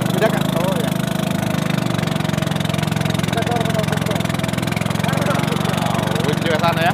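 Ketinting longtail boat engines race on Lake Lampulung, a steady loud droning engine hum running throughout, with voices of onlookers talking over it.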